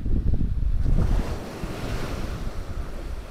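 Big ocean waves crashing on Karaikal beach, a loud rumbling surge that peaks early and then eases into a hissing wash, with heavy wind buffeting the microphone.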